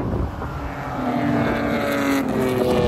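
An Aston Martin race car drives on track during an endurance stint, its engine drone steady and loud with slight pitch shifts, heavy wind rush over the microphone throughout.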